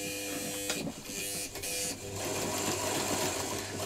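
A freshly oiled Singer 201K sewing machine runs with a steady, loud mechanical whir and rhythmic clatter, close up, briefly dipping before picking back up to full speed.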